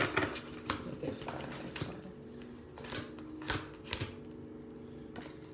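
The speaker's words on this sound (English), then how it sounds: "I'm going to just shuffle one time, and then I'm going to get 5." A deck of cards shuffled once by hand indoors, giving a soft, close riffle of rapid papery flicks and taps that spreads over several seconds at low volume.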